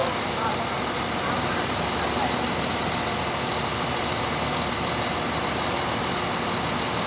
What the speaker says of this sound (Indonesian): Ini bus yang kemarin teman